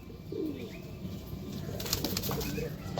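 Pigeons at a home loft give soft, low coos close by, mixed with rustling and brief wing flapping in a quiet setting.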